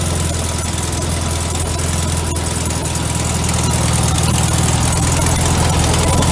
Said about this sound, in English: God, this carb doesn't like to idle.